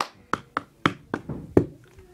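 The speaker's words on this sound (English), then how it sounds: "So then you go clap, clap, dun, dun, dun, smack, move" A cup song rhythm made by clapping hands and tapping a cup on a surface: about six crisp, close hits in a quick, slightly uneven pattern, with no talking over them.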